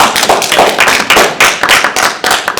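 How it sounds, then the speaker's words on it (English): An audience at a police review hearing applauds in a brisk, uneven burst of close clapping that runs for a few seconds. "Come on, everybody, applaud that one"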